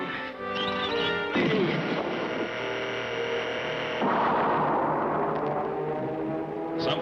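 A sustained, harmonically rich electronic whine of a cartoon heat ray cannon firing, with a sudden crashing burst, shifting pitch midway and continuing loudly for several seconds.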